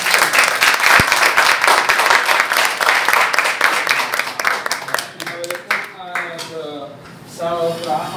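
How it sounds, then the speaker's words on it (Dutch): Warm applause from a seated audience at a soccer coach's keynote event, dense steady clapping that thins out toward the end as a voice begins talking over the fading claps. "Mag ik een warm applaus voor mijn vader?"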